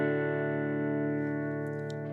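A Shergold electric guitar sounded through its neck pickup, one sustained chord ringing steadily and slowly fading, clean and fairly quiet with no talk.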